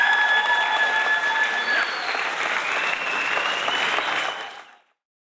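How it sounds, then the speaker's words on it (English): An audience at a live fashion art show breaks into steady applause and a few cheers, holding strong for about four seconds before fading quickly to silence. "Let's give her a nice round of applause."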